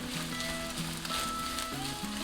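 Japanese-style fried rice with egg and carrot sizzles in a hot oiled pan, a steady close crackling fry with light scraping from a silicone spoon pressing the rice.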